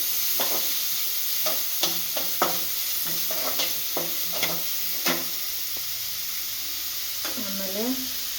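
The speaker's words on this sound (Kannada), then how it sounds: "ಈರುಳ್ಳಿ ಚೆನ್ನಾಗಿ ಫ್ರೈ ಮಾಡಬೇಕು" Onions frying in hot oil for paneer butter masala, giving a steady close sizzle broken by repeated scraping clicks from a spoon stirring the pan, with a short voice-like murmur near the end.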